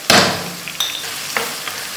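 Cumin seeds fry in hot oil in a pan, a sharp burst of sizzle at the start followed by a few short spattering crackles and light stirring knocks, close and fairly loud, no voices.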